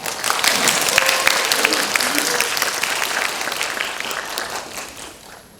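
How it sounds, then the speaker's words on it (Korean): Audience applause fills a university hall in Busan as a professor is welcomed onto the stage at a freshman orientation lecture: dense, steady clapping that begins loud and fades toward the end. "큰 박수로 최재천 교수님을 무대 위로 모시겠습니다"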